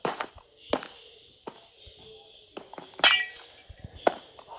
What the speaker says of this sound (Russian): Давайте поставим стекло, что ли.